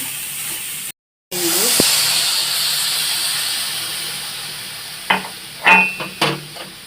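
Coconut gets stirred into a warm milk mixture in a pan for milk puli pitha, a soft steady hiss followed by several clinking, scraping strokes of a spoon against the pan.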